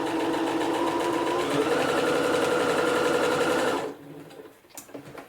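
A sewing machine runs a row of straight stitches through quilted fabric, a fast even mechanical whirr at close range that stops abruptly near the end, leaving faint handling noises.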